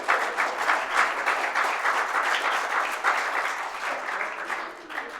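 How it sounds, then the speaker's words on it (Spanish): Church congregation applauding together in praise during a service, a dense, steady wash of many hands clapping that stays loud and even throughout, with no talking over it. "Dele un aplauso al Señor."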